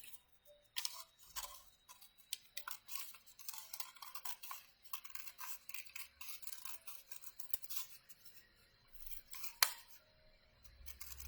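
Scissors cut paper for a handmade bookmark, giving faint, close, crisp snips in irregular bursts with small rustles of paper between cuts.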